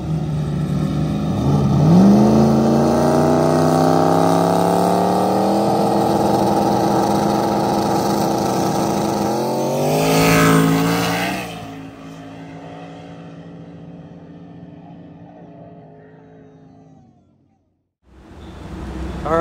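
Drag race cars at a small tire no prep event at Chuckwalla Raceway launch and accelerate hard, loud rising engine roar with climbing revs and a second surge midway, fading before another car blasts in at the end.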